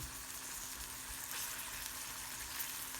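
Sucuk sausage fries quietly in a pan, a soft, even sizzling hiss with a low steady hum underneath and no voices.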